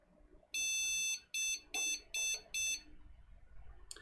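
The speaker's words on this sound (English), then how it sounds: "See, all clear post beep." A computer motherboard beeping during POST: five high electronic tones, the first long and four shorter ones in a quick even run. Another tone starts right at the end over a quiet room background.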